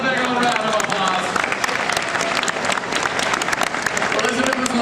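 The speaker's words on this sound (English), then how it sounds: "Everybody, let's give Elizabeth a big old round of applause" Audience applause fills a Universal Studios Hollywood special effects show, a dense, steady wash of clapping and crowd noise that stays loud throughout without easing.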